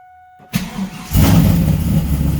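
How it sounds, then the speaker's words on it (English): A stock 2001 Trans Am WS6 engine cold-starts at about 40 degrees: cranks briefly, catches, and roars up loudly, then settles into a rough, steady idle close by. "see what this cold start's going to sound like in the morning here"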